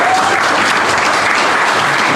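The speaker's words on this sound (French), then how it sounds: "On va l'applaudir." Party guests applaud at a 50th birthday celebration, a loud, dense and steady clapping that fills the room from start to finish, with no voices standing out above it.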